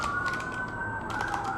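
Sirens wail outside an open balcony window, a steady rising and falling tone running through the whole stretch at moderate distance, with faint bird calls in the background.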